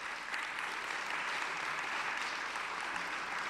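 Audience applause in a room during an artist talk, a dense steady patter of many hands clapping throughout, fairly even in loudness.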